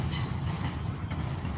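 A heavy freight train with auto racks rumbles close by as it slows for the yard, a steady low roar with a faint metallic squeal riding on top early on as the cars roll past.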